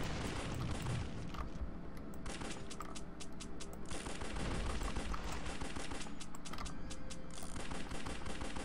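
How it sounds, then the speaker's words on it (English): Rapid pistol gunfire from the top-down shooter game Larva Mortus, loud, dense bursts of shots fired in quick succession with brief pauses, continuing throughout over the game's background noise. "God, I am horribly inaccurate with the pistols"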